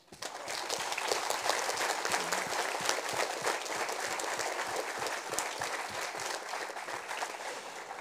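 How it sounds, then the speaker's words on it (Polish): Sustained audience applause after a Ukrainian folk ensemble's performance in Poland, a dense, steady wash of many hands clapping that rises quickly and continues evenly throughout, with no speech over it. "Wielkie brawa dla was."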